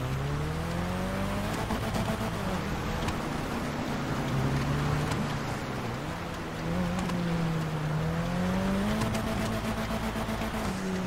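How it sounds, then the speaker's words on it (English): Drift car in GTA V roleplay, engine droning and rising in pitch as it slides into a parking lot, sustained and fairly loud with steady revving and changing pitch throughout. "I'm gonna drift into the Dollar Hills parking lot"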